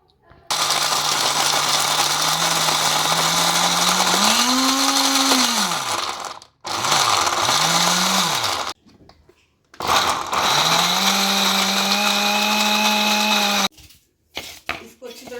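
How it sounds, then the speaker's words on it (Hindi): A kitchen grinder whirs loudly through sautéed raisins and mixed nuts in several bursts, its motor pitch dropping and rising as the load shifts, with short pauses between runs. "ये सारे नट्स मैंने ग्राइंड कर लिए।"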